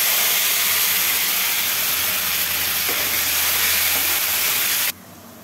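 A pressure cooker boiling peas lets out a loud, steady hissing whistle of escaping steam that runs unbroken for about five seconds, then cuts off abruptly.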